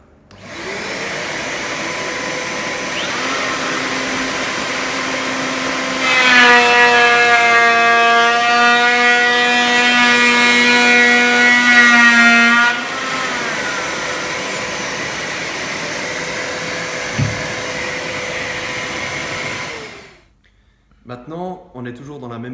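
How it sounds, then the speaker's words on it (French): Electric wood planer set to remove 1 mm runs for about twenty seconds, starting with a loud steady whine that rises into a harsher, higher cutting roar midway as it bites the wood, then drops back and spins down. "On prend notre raboteuse, on choisit la matière qu'on veut lui enlever, toute la matière. Là on va enlever 1 mm déjà"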